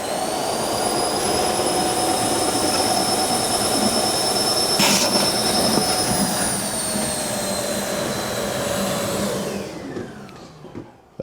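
Milwaukee corded wet/dry vacuum motor head with a larger hose roars loudly and steadily with a high whine, then spins down and fades near the end.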